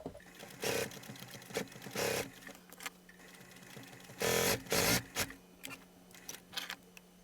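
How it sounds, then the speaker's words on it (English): A sewing machine stitches a simple seam on a zippered purse or pocket, running in several short mechanical bursts of rapid stitching separated by pauses, close and fairly quiet. "I'm going to go in and make a simple seam back stitch."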